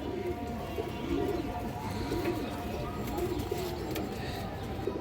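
Pigeons, including silver Bagha pigeons, cooing in repeated low, rolling phrases throughout, fairly close, over a steady background of other birds and ambient noise.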